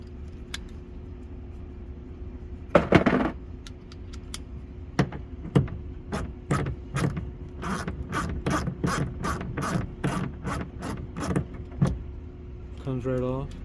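A ratchet wrench backs out an 8mm bolt holding a plastic hook in the trunk of a Lexus IS250, a run of quick, close, sharp clicks in bursts, with a brief whir at the end.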